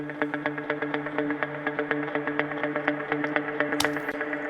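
Galloping guitar rhythm through heavy delay: rapid, evenly repeating plucked notes in a driving triplet-like pattern with echoing tails smearing between hits, ending with a brief bright noise burst near the end.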